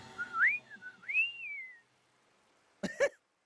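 A person whistles a rising, sliding tune for about a second and a half, close and clear, followed by silence and a brief cough-like sound.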